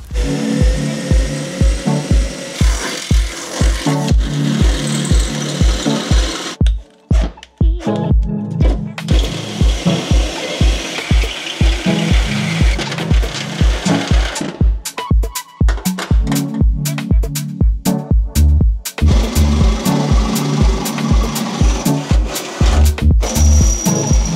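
Power drill boring into sheet-metal car body panels on a BMW E90 wide-body build, loud close whirring bursts repeated in steady rhythm with brief pauses between holes, no talk.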